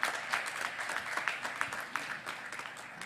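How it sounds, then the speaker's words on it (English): A live audience claps through a round of applause at a CA CPE study event on VIP Road, the sound a steady, moderately loud spread of many hands with small swells, and no talking over it. "can you have a round of applause for the VIP?"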